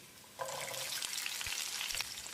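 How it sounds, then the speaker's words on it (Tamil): Chopped ginger, shallots and garlic fry in oil over a moderate flame for a mutton curry. The soft sizzle starts after a brief quiet, with occasional light stirring knocks, fairly faint and close, with no talk. "அளவான தீயில் 1 நிமிஷம் இதை வதக்கிடலாம்"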